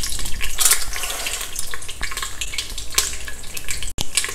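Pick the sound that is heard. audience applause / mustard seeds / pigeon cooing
mustard seeds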